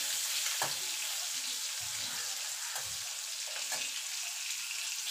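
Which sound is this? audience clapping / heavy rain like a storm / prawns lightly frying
prawns lightly frying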